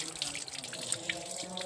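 Water running from a tap into a sink, a steady faint splashing flow with a few small drips, heard at a temple during a festival gathering.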